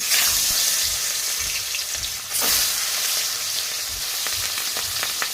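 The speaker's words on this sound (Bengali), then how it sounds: "এবারে আমি মাছগুলো দিয়ে দেবো" Fish pieces salted and dropped into hot oil in a wok, hissing and sizzling loudly and steadily at close range, with faint stirring and spatter crackles and no voices.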